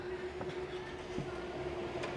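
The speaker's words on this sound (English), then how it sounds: "4 trains and they still haven't raised the barriers." A train rolls past a railway level crossing with lowered barriers, a steady low rumble and hum mixed with faint rail clatter, heard from nearby at moderate level with no talk.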